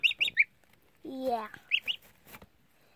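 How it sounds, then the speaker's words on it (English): Baby geese give clusters of short, high peeping calls, close and fairly soft, with a person's voice briefly breaking in between them. "Yeah, it's a geese."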